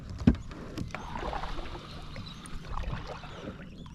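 A kayak is paddled and pushed up a shallow drain, with one sharp thump of the hull or paddle at the start, then soft scraping, sloshing and trickling water at close range.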